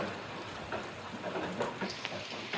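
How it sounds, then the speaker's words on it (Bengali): Heavy rain pours down in a dense, steady wash with scattered sharper drop hits, heard close and fairly loud. "প্রচুর বৃষ্টি বেরোনোর সময়"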